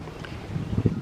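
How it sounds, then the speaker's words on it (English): Wind blowing outdoors on a warm spring day, a short close burst of rumbling wind buffeting against the microphone that grows gustier toward the end, no talking. "It's pretty windy out here today"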